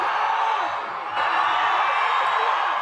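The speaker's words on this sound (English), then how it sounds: "I tell you, Jeff, this crowd is amazing tonight." A rodeo crowd at an evening event in Gallup, New Mexico cheers and whoops in a dense, loud roar of many voices that swells slightly partway through.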